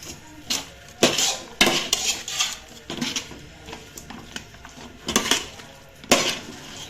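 Soybean gobi is stirred in a metal pan, giving repeated close clinks and scrapes of a spoon against the pan in an irregular rhythm with no talking.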